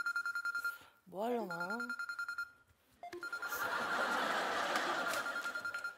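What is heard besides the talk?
telephone dialing and ringing tone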